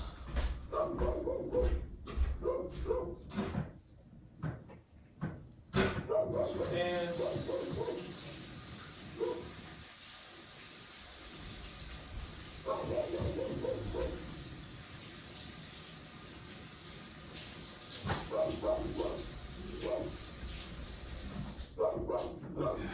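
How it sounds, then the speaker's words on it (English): A dog barks repeatedly in bursts, slightly distant, mixed with a steady hiss and some background noise. "So now she's outside barking, as y'all can hear."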